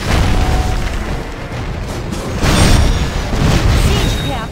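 Heavy explosions and rumbling destruction as a siege camp is destroyed in a video game, loud sustained booms with bursts of crackling debris layered over a dense background.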